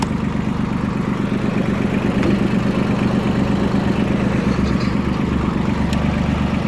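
A Mitsubishi MT241 tractor engine runs steadily at close range, a continuous low rumbling drone with faint clicks over it.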